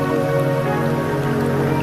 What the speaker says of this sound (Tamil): அந்த மழை துளிகள் உங்கள் மீது விழுவதை உணருங்கள்